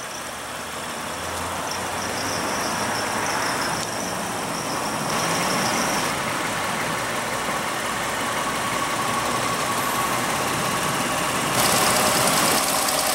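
A 2016 Lexus ES350 with a 3.5-liter V6 idles steadily. The hum is smooth and even, heard close by, and stays constant with only slight shifts in tone throughout.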